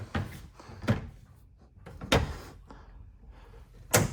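Kitchen drawers in a 2026 Montana High Country 325RK fifth-wheel RV slide and thud shut, four distinct close bumps spaced out over a soft rustling background.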